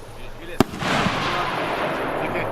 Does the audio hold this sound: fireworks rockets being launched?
yes